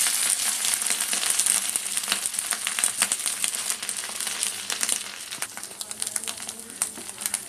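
A sabudana dosa fries on a hot pan with a steady, soft sizzle and faint crackling, occasional light scraping over the continuous hiss, no voices.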